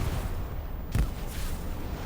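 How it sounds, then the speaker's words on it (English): A single grenade blast in the World War II shooter Hell Let Loose, a short dull boom rising from a busy battlefield rumble, fairly distant, with no talk. "Beautiful little shot there, grenade, I hear it again."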